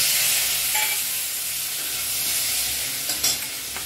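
Mustard paste sizzles loudly in hot oil in an aluminium bowl for a Bengali fish curry, a dense, steady hiss up close with one brief clatter near the end.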